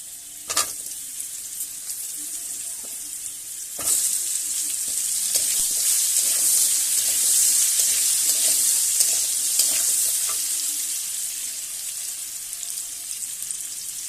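Red potatoes fry in a pan with chilli and five-spice seeds, giving a steady hiss of sizzling oil broken by a few sharp clatters of stirring.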